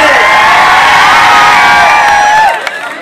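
A dense political rally crowd in Dhule roars and cheers continuously, loud and close, with shouts and whoops layered through the din before it thins out near the end.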